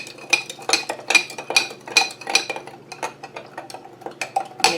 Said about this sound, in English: Mix that sugar up with it.